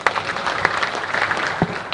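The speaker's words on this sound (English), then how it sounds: "Could we again give them a round of applause?" An audience at an investment conference applauds, a dense, even patter of many hands clapping close by with no break, lasting just under two seconds.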